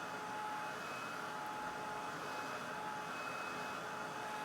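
A Ranger heat tool blows hot air over watercolor paint, giving a continuous, steady whirring hum with a faint whine, fairly quiet and unbroken, with no talking.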